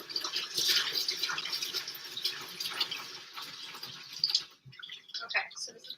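Running tap water rinses something off at a kitchen sink while dinner of salmon and spaghetti is cooked, a steady hissing splash that cuts off near the end, with talking over it.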